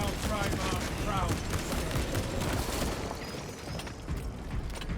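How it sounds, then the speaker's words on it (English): Frag grenade blast and rapid gunfire in the Space Marine 2 shooter, with Combi Melta weapon fire: dense bursts of shots and booms crowd the whole stretch, loud and chaotic, with some game voice mixed in. "Throwing frag grenade."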